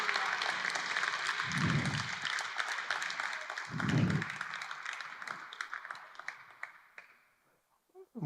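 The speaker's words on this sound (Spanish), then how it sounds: "Vamos a darle un aplauso a Jesucristo." Congregation applauding in a church service after a sermon line, a sustained wash of clapping with a couple of low thumps, tapering off near the end.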